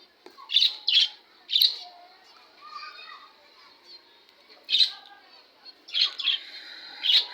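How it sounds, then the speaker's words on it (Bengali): A bird gives a series of sharp, loud chirping calls in irregular bursts, close by, with quieter sounds in between. "এই পাখিটা খালি ডাকি শুরু করছে দেখুন"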